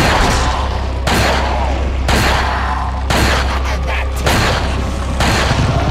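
Gunshots fired at Ramon Salazar in Resident Evil 4, loud booming shots repeating roughly once a second over a steady low rumble of game sound.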